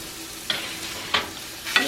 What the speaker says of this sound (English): I have to shake up the potatoes and peppers